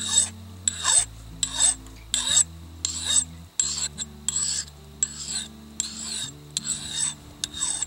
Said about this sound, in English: then we can just easily go right across and sharpen our axe